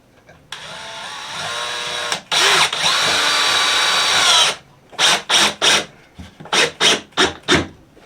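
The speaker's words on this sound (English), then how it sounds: "And then just drive a couple screws right up in the bottom of this thing." A power drill drives screws up through the bottom of a wooden board in a holiday woodworking project: one long steady whirring run, then a quick pair of bursts, followed by a rapid string of short, loud trigger pulses close by.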